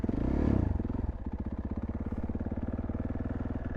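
A KTM 450 dirt bike engine idles up close on a mountain trail near Cascade, Idaho, with a steady rapid thumping beat after a brief louder rev at the start.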